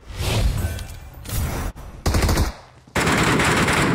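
Rapid automatic gunfire in PUBG Mobile, loud bursts of shots with brief gaps, a short pause near the middle and a sustained final volley.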